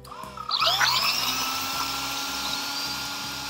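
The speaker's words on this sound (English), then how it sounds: "I'm going to go ahead and drill the first hole." A power drill whines up to speed and grinds through thin metal, a high screeching bite at first settling into a steady close whir.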